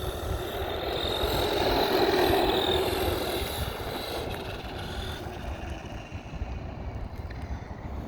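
A Force Epidemic 6S RC car drives while a wheelie is attempted, its electric motor giving a steady, fairly loud whine with rising and easing pitch over about eight seconds, with no talking.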